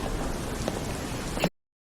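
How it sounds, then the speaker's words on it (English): Steady rain pours at night in a horror video game, a dense even hiss filling the scene, with one brief louder knock near the end before the sound cuts off. "It is nighttime outside. It's raining."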